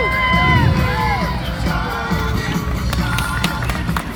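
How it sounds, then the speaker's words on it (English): An audience at a street show at the Taste of Kingsway Festival raises a loud, continuous crowd din of cheering, whoops and shouts, with whistle-like calls rising above the steady roar throughout. "everyone at the Taste of Kingsway Festival will hear the clapping and the cheering"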